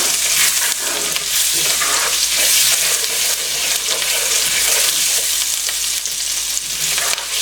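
Minced garlic frying in browned butter while being stirred in a pan, a steady loud sizzle with crackling spatters and scraping stir sounds throughout, no talking.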